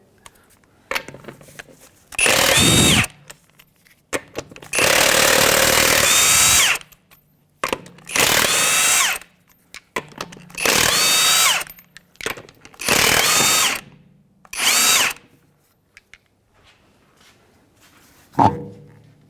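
A power tool with a 22mm socket removes a wheel from a 2011 Honda Odyssey, sounding as about seven loud, close whirring bursts of one to two seconds each, separated by short quiet gaps.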